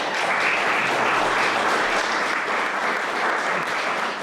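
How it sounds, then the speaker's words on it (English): A church concert audience applauds, a dense, steady roar of clapping that fills the whole stretch with no voices over it. "So let's give Mark a big round of applause."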